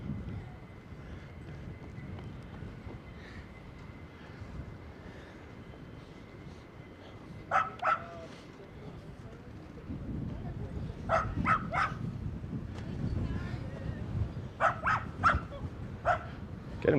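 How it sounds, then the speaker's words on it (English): A dog tied to a bench at Coney Island barks in short bursts of two or three, fairly distant, over steady street rumble and low talk. "Dog is tied up to a bench just barking."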